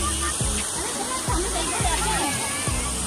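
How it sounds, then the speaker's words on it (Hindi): Steady rushing splash of a small water cascade at a bird park in Chandigarh, a continuous wash of noise running throughout with faint bird-like chirps and low thumps underneath. "आपको आवाज़ आ रही होगी छन छन की, क्योंकि साथ में दोस्तों सामने आप देख सकते हो यहाँ पे झरना है, पानी का झरना है"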